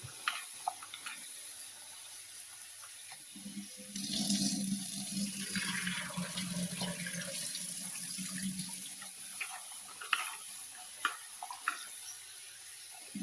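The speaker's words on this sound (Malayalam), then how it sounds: "നന്നായിട്ടൊരു 2-3 തവണ കഴുകി കളയണം." Water running and splashing as crushed jackfruit seeds are rinsed two or three times in a kitchen, a steady tap-like flow with intermittent clinks and splashes, fairly close and moderate in volume, with no talking.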